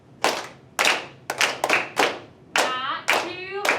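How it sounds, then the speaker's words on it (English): A group of fifth-grade children clap a steady rhythm with their hands during a school ukulele class, sharp, close claps arriving about every half second with some soft foot taps underneath. "tap your feet while you clap."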